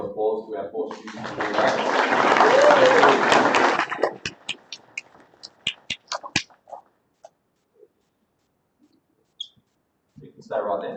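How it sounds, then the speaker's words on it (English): At a school presentation afternoon, a room applauds award-winning students: a burst of clapping builds and holds for a few seconds, then drops to scattered individual claps before a voice speaks again. "A round of applause to our 4 students."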